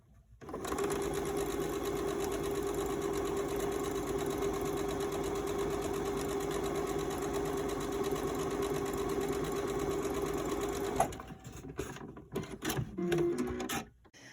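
A sewing machine stitches the lining of a fabric face mask in a steady, continuous whir that runs close and loud for about eleven seconds, then stops, leaving brief handling noises.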